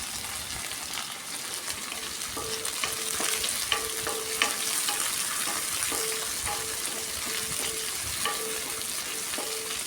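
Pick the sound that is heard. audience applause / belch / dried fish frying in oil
dried fish frying in oil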